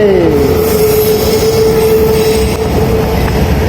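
A long freight train rolls past a closed level crossing, loud and close, with a sustained high-pitched wheel squeal over a heavy rumble of rolling cars that continues throughout.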